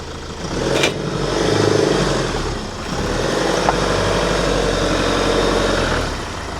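A van engine runs steadily while reversing on a rough track at an off-grid homestead in Portugal, a continuous low idle-to-rev drone with slight swells, close and loud, with no talk over it.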